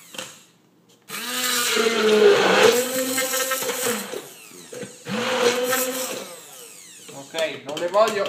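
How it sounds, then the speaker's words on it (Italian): A blender chops blackberries for gelato in two loud whirring bursts of a few seconds each, with short pulses at the end; a voice is heard between bursts. "Adesso vado a tritare."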